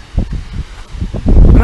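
Gusty wind rumbles against a microphone near a lake in a few short low bursts, growing louder toward the end, with no talking.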